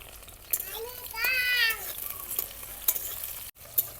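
Onion, tomato and green chillies fry in a pan with steady sizzling and stirring scrapes, moderately close, while a voice rises briefly in the background.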